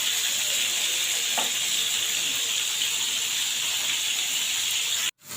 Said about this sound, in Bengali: পোয়া মাছগুলি আমি হলুদ মেখে, লবণ মেখে ভেজে নিচ্ছি